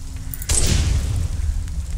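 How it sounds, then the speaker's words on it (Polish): A barrel bursts after being shot in Resident Evil Village. A sudden loud boom hits about halfway in and leaves a deep rumbling blast that trails on to the end. "Ale cóż, strzelmy sobie w tą beczkę. Fajnie wybucha."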